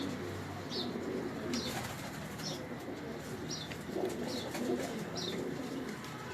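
Pigeons coo in Karachi, soft repeated calls roughly every second over a constant hiss of background noise, fairly faint and without talk.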